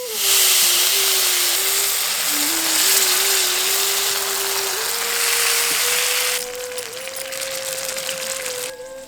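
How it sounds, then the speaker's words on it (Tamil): Frozen coconut milk simmers in a pan as it is boiled down into coconut oil. A loud, continuous steamy hiss runs throughout, with a faint thin whine underneath, and it eases slightly partway through. "நல்லா உறைஞ்ச இந்த தேங்காய் பால் கட்டிய கொஞ்சம் கொஞ்சமா எடுத்து எண்ணெய காய்ச்ச ஆரம்பிச்சிடலாம்"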